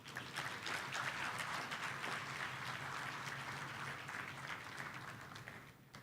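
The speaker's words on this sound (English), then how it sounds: "A thunderous round of applause for Dr." Sustained audience applause at a professional forum, a dense, even patter of many hands clapping throughout, moderately distant and fading slightly near the end.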